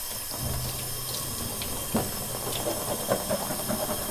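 Tap water runs steadily over a Cricut cutting mat in a sink, rinsing off glitter residue with a close, continuous hiss and a few faint splashes and knocks.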